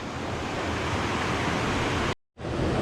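Czarny Potok waterfall near Czerniawska Kopa in Świeradów Zdrój, a steady broadband rush of flowing water close by, loud and continuous, with a brief drop to silence near the end before the roar resumes.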